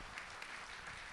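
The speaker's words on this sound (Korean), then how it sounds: "박수 한번 부탁드립니다" An audience at a book concert applauds, a brief, steady wash of many hands clapping at a moderate distance, with no distinct voices.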